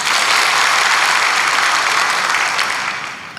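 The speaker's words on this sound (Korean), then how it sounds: "박수." Church congregation applauding during a worship service, dense continuous clapping that fills the space and fades slightly toward the end.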